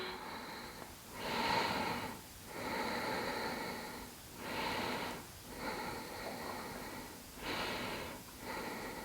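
Deep, slow breathing during a yoga session, about four long drawn inhales and exhales in a steady rhythm, close and breathy with no talking.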